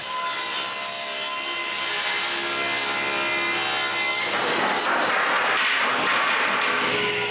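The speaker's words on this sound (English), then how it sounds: "Next, I rip two narrow planks out of them." A saw rips narrow strips from thicker tongue-and-groove wood planks, a loud, continuous rasping cut heard close up, its tone shifting partway through as the blade works along the board.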